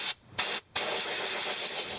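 Compressed air blasting in short bursts to clean a car control arm, two brief hissing blows with gaps, then a longer steady loud hiss close by.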